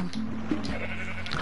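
A Minecraft cow lows in short, nasal bleating calls, several brief moos close by over quiet game ambience.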